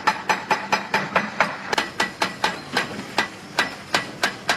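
A giant hydraulic breaker, the world's largest in its class with a 25,000-joule blow, hammers rock in a fast, even series of about eighteen loud, sharp impacts.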